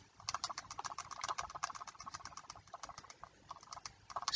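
Quick, light plastic key taps entering numbers into a graphing calculator's equation solver, an uneven run of close, dry clicks in short bursts with no talking.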